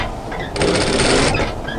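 A sewing machine runs in one short burst of fast, even stitching through a fold of coat fabric, loud and close, with quieter handling before and after.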